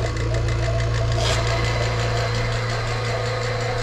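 A vacuum pump runs during refrigerant service on a factory-damaged Hoshizaki ice maker, with gauges and a hose connected. It gives a steady, loud mechanical drone with a low throbbing hum and no talk.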